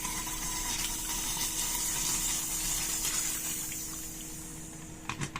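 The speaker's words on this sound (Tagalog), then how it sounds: "irekta nyo lang dyan sa gripo at paandaran nyo ng tubig. Maririnig nyo, sisingaw yan." A pressure cooker releases steam under running tap water: a steady, loud hiss mixed with rushing water, holding constant for several seconds before tapering off, with a few clanks near the end.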